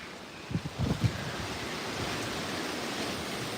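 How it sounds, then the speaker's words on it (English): A dull, continuous roar of strong wind gusts ahead of Hurricane Milton blasting across the microphone on the East Coast, with a few low thumping buffets early on. "it's definitely picking up the wind gusts"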